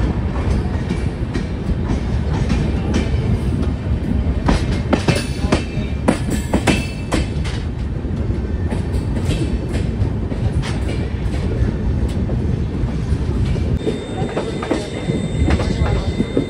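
The Devagiri Express passenger train runs on the Hyderabad to Mumbai route via Nanded, a loud, steady rumble of wheels on rails with rhythmic clickety-clack and occasional metallic squeals, heard close up from on board.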